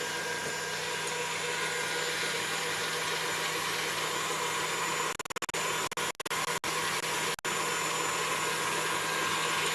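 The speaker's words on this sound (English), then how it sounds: "So I want to whisk my whites and slowly add my sugar." An electric mixer whisks egg whites for a hojicha chiffon cake, a steady loud whirring drone that runs on without a break and then stutters and cuts in and out a few times near the end.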